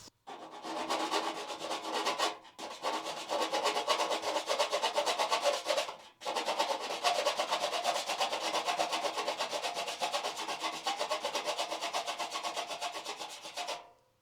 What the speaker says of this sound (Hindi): तो मैं इसको घिसने का प्रोसेस शुरू करता हूँ। एक रेती ले ली मैंने